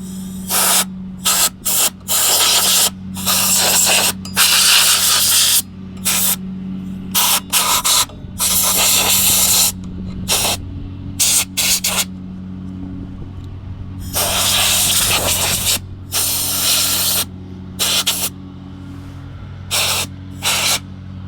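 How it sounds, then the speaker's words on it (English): Compressed air blasts in short, loud hissing bursts of varying length, separated by pauses, to blow loose dirt out of a power supply inside an old IBM PC expansion unit. "I'm going to use some compressed air and blow that out"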